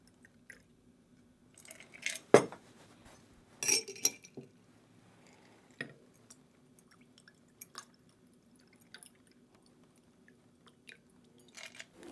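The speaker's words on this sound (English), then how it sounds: "And we strain into our glass." Byrrh Special cocktail strained into an iced Nick and Nora glass, giving soft drips, a few sharp glassy clinks and light splashes close by with quiet gaps between.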